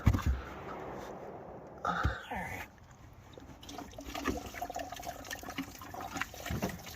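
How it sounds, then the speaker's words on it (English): Antifreeze coolant dribbles and squirts from a squeezed ATV hose, making a faint, uneven wet trickle with small splashes against quiet background handling noise. "It just squirted out there. I squeezed the hose. It's full of antifreeze."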